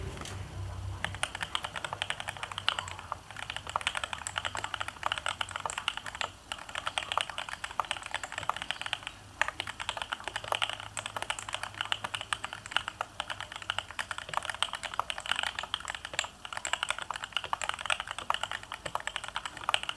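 Fast, continuous typing on a modified mechanical computer keyboard during a typing test, with dense, crisp key clacks in an uneven rhythm and a few short pauses, close and clear, with no talking.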